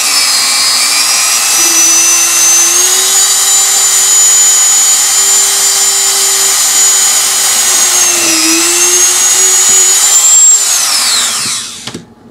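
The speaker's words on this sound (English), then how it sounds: "I'm using my rotary tool with a very small drill bit," A small rotary tool fitted with a tiny drill bit whines steadily at high speed while boring a hole into a golf ball, its pitch dipping slightly under load, then winding down at the end; close and loud, no talking.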